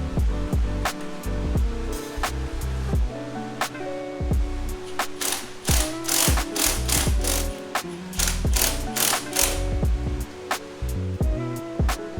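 Clamps being tightened down on aftermarket intake filters of a BMW G80 M3, giving a run of close, crisp ratcheting clicks in bursts with short pauses and no talking.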